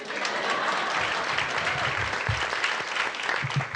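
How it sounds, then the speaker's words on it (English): An audience at a school board meeting claps in steady, sustained applause that fills the room from start to finish, with faint voices underneath. "And I also want to clap for Dave."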